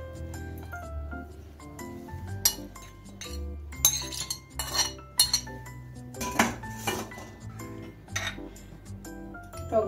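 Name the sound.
fried onions being put into a mixer jar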